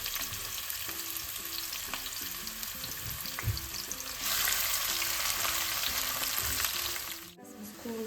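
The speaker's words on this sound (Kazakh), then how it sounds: "Пиязымызды қызартып қуырып аламыз." Onions frying in a pan with a steady, close sizzle and crackle that swells louder midway, with occasional stirring clinks, before briefly dropping away near the end.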